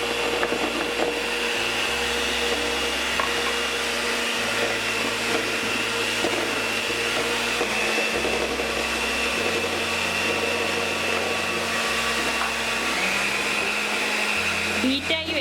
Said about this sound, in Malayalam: ഇനി ഒരു ബീറ്റർ ഉപയോഗിച്ച് ഈ എഗ്ഗ് ഒന്ന് ബീറ്റ് ചെയ്തെടുക്കാം